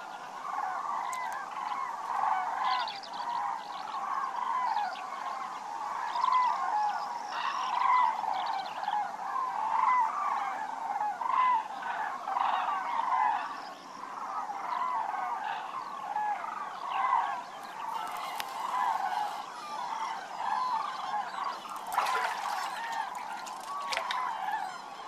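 A flock of wintering cranes, birds that breed in the north from Sweden to Russia, calls continuously in dense overlapping trumpeting cries, steady and fairly close throughout, with no voices.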